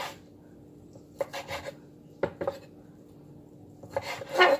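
A knife slices cooked, spiced meat into small cubes on a cutting board, with several short rasping cuts and knocks against the board, spaced out and growing busier near the end.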